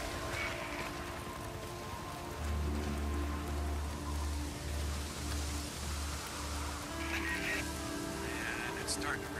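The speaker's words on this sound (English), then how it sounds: "Man, it's starting to rain." Steady hiss of rain in the video game Days Gone falls throughout, with a low pulsing rumble joining partway and faint scattered sounds over the constant wash.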